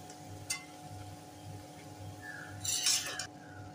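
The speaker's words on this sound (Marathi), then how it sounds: "तर छान राईस मिक्स करून घेऊया" Matki rice being mixed in a metal pot, a spoon scraping and clinking softly against the sides in a gentle repeated rhythm, with a brighter metallic clatter toward the end.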